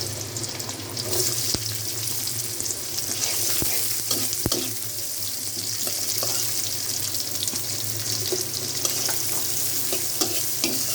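Onions frying in a little oil in a pan, a steady close sizzle running throughout with occasional sharp clicks and scrapes of a spoon stirring them, no talking.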